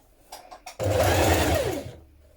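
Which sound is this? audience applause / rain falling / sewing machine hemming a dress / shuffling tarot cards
sewing machine hemming a dress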